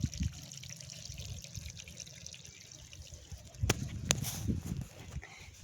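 Water from a farm motor pump runs for irrigation, a continuous gushing flow with scattered drips and splashes nearby, swelling briefly with a couple of sharp splashes toward the end, no speech.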